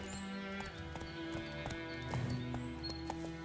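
Roach, Geralt's horse in the Witcher 3 video game, trots with steady clip-clop hoofbeats over a layer of game music and ambience, close and continuous throughout.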